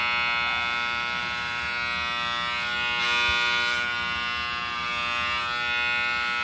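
Noisy electric hair clipper running on 50-cycle power, a steady harsh mains buzz holding at constant loudness close by, with slight shifts in pitch as it works.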